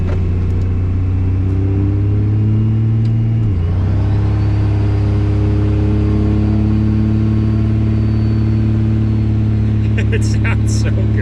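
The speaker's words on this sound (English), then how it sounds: "This truck sounds incredible, man." A modded third-generation Cummins diesel pickup truck, built to 1000 horsepower, runs loud and close with a heavy, steady drone that dips briefly and then settles into a sustained, rising rumble.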